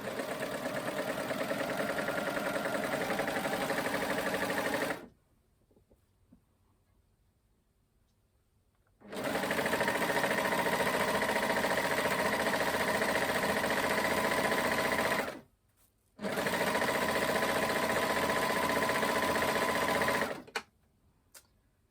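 A sewing machine stitches the bottom hem of a homemade top in three loud, steady bursts of rapid mechanical whirring. Near-silent pauses of a few seconds fall between the runs.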